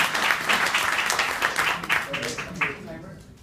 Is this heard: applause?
yes